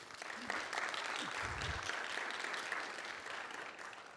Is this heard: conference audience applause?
yes